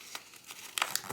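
Paper folded in half for an origami cat, heard as brief, close crinkles and a crisp crease that are quiet and sparse, with no talk.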